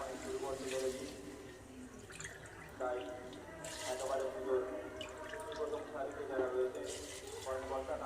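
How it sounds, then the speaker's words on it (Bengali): Water poured into a pressure cooker with meat and rice for chicken biryani, a faint repeated trickle and splash in several pours, with a voice speaking over it. "এবারে আমি জল দিয়ে দেব।"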